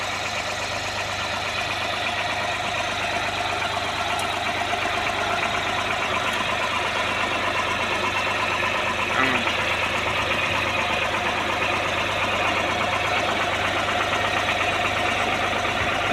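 A tractor engine idles on a farm with a steady, unbroken mechanical hum and low throb that runs the whole time, while people talk over it.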